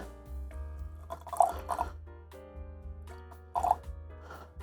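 Water poured onto granules of old-style hide glue makes faint trickling and dripping with a few brief gurgling splashes, quiet and close, over a low steady hum, without speech.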